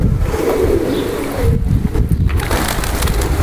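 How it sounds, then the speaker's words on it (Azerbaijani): Pigeons in a keeper's yard give soft, low cooing calls under steady outdoor wind noise, faint and partly masked, with no talking. "Göyərçin saxlamağa hələ bu həyətdə 2014-cü ildən saxlamışam, Xəzər."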